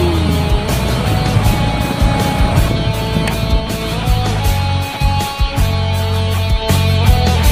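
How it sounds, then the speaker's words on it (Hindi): A vehicle approaches along a road on the way to the Tezu Mela in Arunachal, its engine a steady, loud rumble with traffic noise that swells and dips but never drops out. "ओए गाड़ी आ रहा है"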